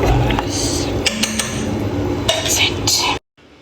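Metal utensils scrape and clink against a cooking pot as food is mixed, a busy run of clattering knocks and scrapes lasting about three seconds before cutting off abruptly.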